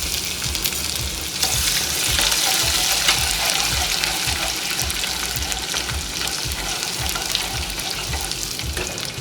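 Garlic and ginger sizzle in a spoonful of hot oil for veg lollipop gravy, a steady loud crackling fry with the clink of stirring, no voices.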